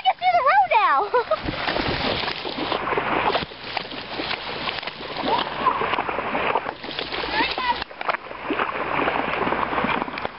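A vehicle pushing through flood water over a submerged road, with a continuous rushing splash and slosh close by while people talk excitedly over it.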